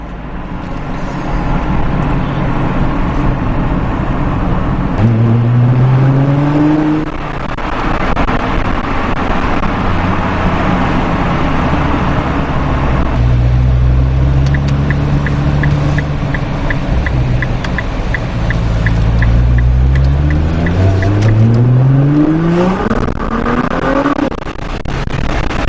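A car engine at Brave Auto International in Japan revs hard through repeated gear changes, its pitch climbing and dropping in several loud sweeping pulls that end in a rising surge.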